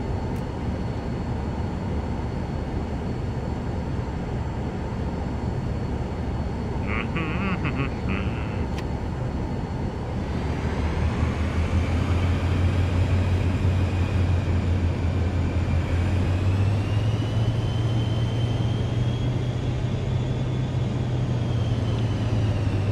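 A Cirrus Vision Jet engine starts up in Microsoft Flight Simulator 2024, with a steady cockpit hum and brief clicks before a rising turbine whine and deepening roar that then settles into a loud, continuous spool.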